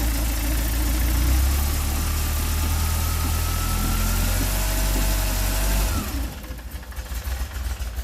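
Low, steady car engine idle at too low a speed with a faint belt whine. It runs close and continuous for about six seconds, then drops away to quiet.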